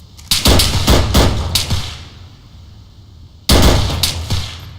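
Gunfire in the military shooter Arma 3, a loud close burst of rapid shots lasting about two seconds, then a pause and another sharp volley near the end, with no talking.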